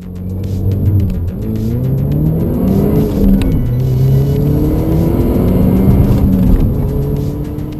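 A turbocharged 2.0-litre Opel Astra OPC engine with a variable-geometry turbocharger revs steadily with a deep, rising and falling drone and a constant whir, loud and close throughout.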